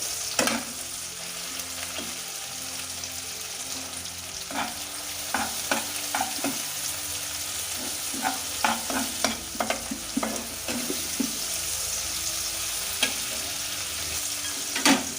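Chopped onion and tomato frying over a high flame, stirred again and again, giving a steady sizzle broken by repeated scraping strokes of the spoon, with no talking.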